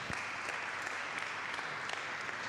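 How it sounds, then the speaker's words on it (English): Audience applause at a Red Bull Basement local selection event, a fairly quiet, steady patter of many hands clapping for a couple of seconds. "Another hand clap for Laptress."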